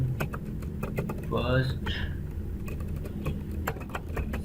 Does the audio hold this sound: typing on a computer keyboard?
yes